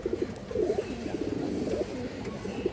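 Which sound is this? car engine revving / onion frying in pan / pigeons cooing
pigeons cooing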